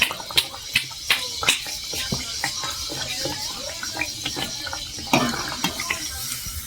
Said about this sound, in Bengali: লাল লাল করে ভাজবো, তাহলে খেতে খুব ভালো লাগবে।